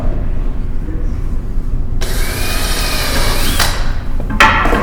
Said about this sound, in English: I'm going to pre-drill this on the table.